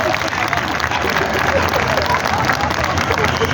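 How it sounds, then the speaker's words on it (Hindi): Audience at a comedy poetry gathering in Lohiya Park, Lucknow, breaking into loud, dense applause that rolls on steadily for the whole few seconds, with crowd murmur mixed in. "एक बार मेरे लिए जोरदार तालियां बजाइए"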